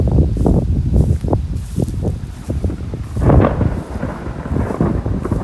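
Loud rumbling thunder rolls in uneven waves, with gusts of wind buffeting the microphone throughout.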